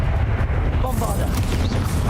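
Bombarda spell blast in Hogwarts Legacy, a booming explosion with dense low rumble and a bright burst of crackle partway through, loud and close amid ongoing combat noise.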